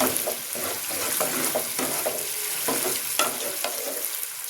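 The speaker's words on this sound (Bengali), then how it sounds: "তেল ছাড়া শুরু হয়ে গেছে মানে মশলাটা ভাজা হয়ে গেছে।" Steady sizzling of spices frying in oil in a pan with broadband crackle and occasional stirring scrapes, fairly loud and close, no voices.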